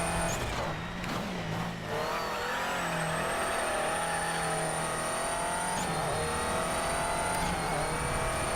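A Subaru rally car in the Colin McRae: DiRT video game drives hard, its engine droning and shifting pitch through revs and gear changes, with brief tyre noise early on, steady and close throughout.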